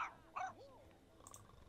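A dog in The Sims 2 video game gives a couple of short, quiet barks and yips, faint and brief over a low game background.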